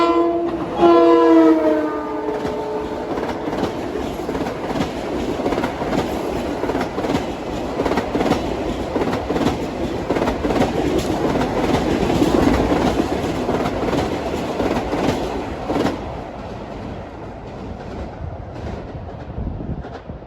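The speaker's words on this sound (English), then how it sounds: "This should be train 2066 from New York to Ronkonkoma." An LIRR train, number 2066 from New York to Ronkonkoma, roars through Mineola station on its non-stop run, opening with a loud horn blast before a long, steady rumble of passing cars with rhythmic clickety-clack, then fading away.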